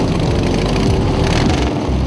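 Custom-built motorcycles by Billy Lane and Dave Perewitz are ridden, their engines giving a loud, steady, deep rumbling drone close by for a couple of seconds.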